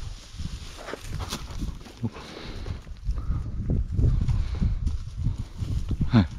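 A donkey walks on a farm, its hooves giving a few soft clip-clops amid rustling outdoor noise and low rumbling, with no clear voices over them.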